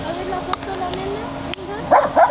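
A small dog gives two short, sharp barks close by in a local park in Alicante, Spain, after a stretch of outdoor background murmur.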